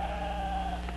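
Sheep bleat in one long, steady, sustained call, loud and close with no other sounds around it.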